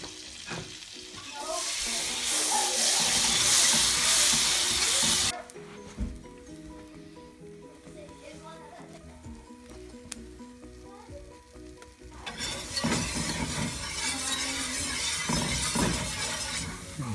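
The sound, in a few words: flour cooking in grease to make a roux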